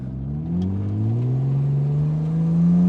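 An inline-six engine in a farm truck build with Jaguar XJ6 donor parts pulls hard while driving, a loud continuous rising drone that climbs steadily in pitch under acceleration.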